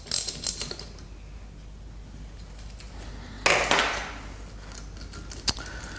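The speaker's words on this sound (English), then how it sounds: "You take the armature holder and a socket, hold the armature and undo the bolt." Clutch armature bolt on a Unicla UWX550 compressor being undone with a socket while the armature is held, giving a short burst of metallic clicking and ratcheting midway through, then a lone sharp tick near the end, with no talk.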